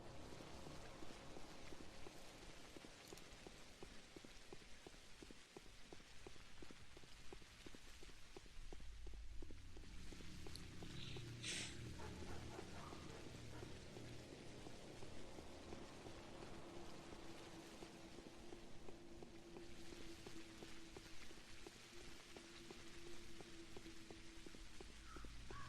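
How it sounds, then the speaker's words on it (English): Steady rainfall in Pathologic Classic HD, a faint, dense patter of drops continuing throughout, with soft scattered thumps and a brief sustained tone partway through. "Of course, the episode has to end off on rain"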